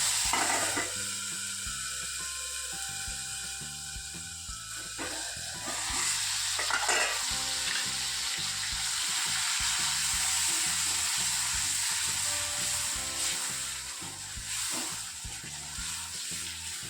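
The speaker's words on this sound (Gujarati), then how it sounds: "હવે ડુંગળીને થોડીક બ્રાઉન કલરની થાય ત્યાં લગી શેકવાની।" Crushed onion, chili, garlic and ginger with asafoetida sizzle and fry in a pan while being browned, with repeated stirring scrapes and utensil clinks over a steady hiss, close and without talk.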